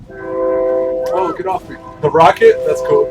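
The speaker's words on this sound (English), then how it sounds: "Oh, sorry about the train." A train passes close by, its loud sustained horn tones holding steady under a person talking near the microphone.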